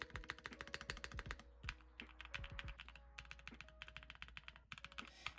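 A Mode 65 mechanical keyboard with lubed and filmed switches is typed on steadily, a fast stream of close, crisp clacks in quick runs with short pauses, alone without talk over a low steady hum.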